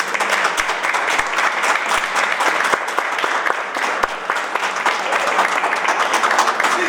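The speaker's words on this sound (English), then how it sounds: "I want you to give her a round of applause." An audience at a golf course and conference center ribbon cutting gives a round of applause, steady dense clapping with a few sharp individual claps standing out, filling the whole stretch without talk.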